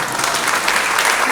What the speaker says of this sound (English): An applause for you too.